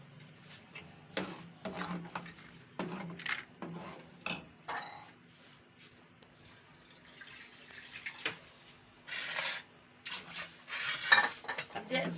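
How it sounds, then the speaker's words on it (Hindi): Kadhi batter being stirred in a pot on a stove, with soft scraping and clinks of a spoon against the pot in irregular bursts, close by and fairly quiet, with intermittent water-like sounds. "इसको अब हम चलाते रहेंगे, चूल्हा जला रही हूँ मैं, और इसको हल्के हल्के से चलाते रहेंगे"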